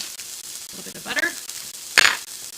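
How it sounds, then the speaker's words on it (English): Steak searing in a pan with butter, a close continuous sizzle broken by a short spattering burst and a sharp hissing flare about two thirds of the way through. "We've got a nice sear started."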